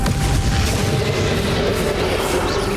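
Confringo fire spell blasts during the final boss fight against Ranrock in Hogwarts Legacy, a dense, loud rumble of booming fiery impacts rolling continuously with no pause.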